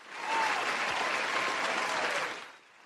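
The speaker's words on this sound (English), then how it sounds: "Give yourselves a round of applause." A small live-show audience and panel clap together in a round of applause, a dense close burst that holds steady for about two seconds before fading out.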